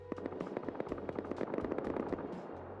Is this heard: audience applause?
no